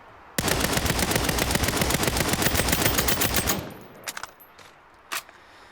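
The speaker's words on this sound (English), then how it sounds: "It's like we're only hearing the tail of this gun." Rapid automatic gunfire from the video game Saints Row rattles loud and continuous for about three seconds, then cuts off, leaving a few faint isolated shots.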